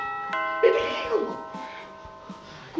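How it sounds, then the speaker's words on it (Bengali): An apartment doorbell rings once with a sustained electronic chime that rings out and fades over a couple of seconds, followed by faint room noise. "এই কলিং বেল দে।"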